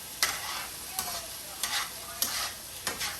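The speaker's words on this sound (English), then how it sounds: "I am mixing my vegetables." A spoon stirs cabbage and vegetables frying in a pan, five sharp scraping strokes at roughly half-second intervals over a soft steady sizzle, close and fairly quiet.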